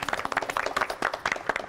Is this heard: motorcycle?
no